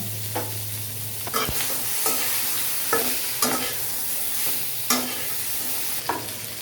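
Chopped onion and green chili fry in a pan with a steady sizzle, while a spatula scrapes through them in regular strokes about once a second, close and clear.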